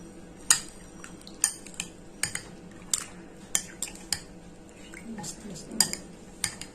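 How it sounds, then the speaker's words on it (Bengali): Marinated chicken being mixed with spices in a metal pot for chicken biryani, a series of sharp spoon clinks and scrapes against the vessel at an uneven rhythm, close and fairly quiet, with no talk. "তো এটাকে এখন মিক্স করে দিচ্ছি।"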